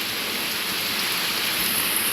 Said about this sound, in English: We're in heavily rain, and I think there's going to be a possible tornado.